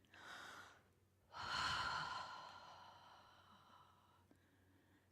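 A slow, soft human breath taken during a quiet pause in a spoken service: a gentle exhale, a brief silence, then a longer, fuller breathing sound that fades away, close and alone with no talking.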